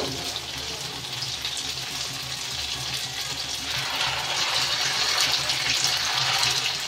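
Semolina and potato snacks fry in hot oil, a steady, bubbling sizzle that swells slightly louder partway through and keeps going without a break.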